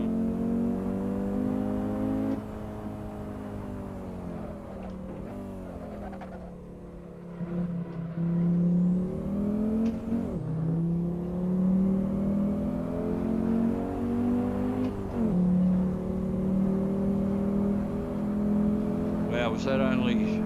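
Race car engine in a racing video game, a loud continuous drone that rises and falls through gear changes and revs across the whole stretch, with a voice talking over it.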